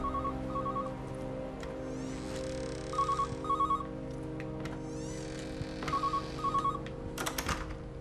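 An old-style telephone rings in the video game Everybody's Gone to the Rapture, in a station master's house. Short double trills repeat three times over a steady ambient hum, with faint clicks and rustles between them.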